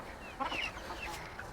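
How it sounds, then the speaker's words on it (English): Silkie chickens cluck softly in their coop, a few short faint calls scattered over steady background noise. "And the silkies,"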